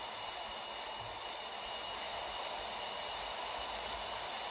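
Boeing 737 MAX jet engines in a flight simulator game cruising in flight, a steady, even broadband roar with a high whine on top, constant and unbroken throughout with no voices.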